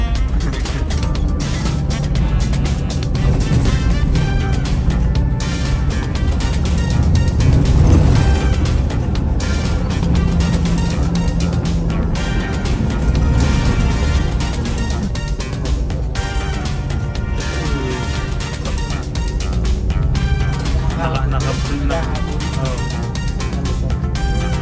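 Nissan Diesel airport limousine Eurobus engine running on a night trip from Manila to Bicol, a steady low diesel drone with road rumble inside the cabin throughout, fairly loud and continuous.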